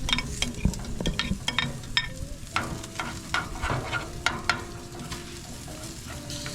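A spoon stirs BBQ sauce ingredients in a pot: apple cider vinegar, tomato paste, chipotles, brown sugar, mustard and black pepper. Close, irregular scraping and tapping strokes sound over a low bubbling background.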